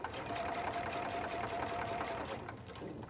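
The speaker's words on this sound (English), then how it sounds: "So we're just doing another line of stitches." A sewing machine runs a continuous line of stitches along taped fabric for a binder pouch, a steady rapid whirring chatter close by that eases off near the end.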